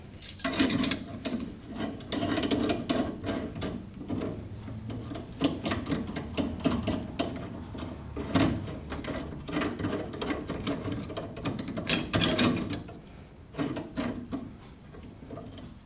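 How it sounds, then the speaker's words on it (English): Wrench turning a nut down on a GM steering wheel removal tool in a garage, a dense run of close metallic clicks and ratcheting rasps in irregular bursts, moderately loud and with no talk. "You tighten the nut down on the tool to where the groove for the snap ring is exposed."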